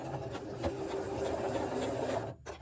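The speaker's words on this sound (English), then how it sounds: "I'm sewing this edge that we folded over before down all the way to the end, back stitch" Sewing machine stitching along the folded edge of a shirt pocket, a steady rapid mechanical whir with light rhythmic ticking, running continuously before stopping near the end.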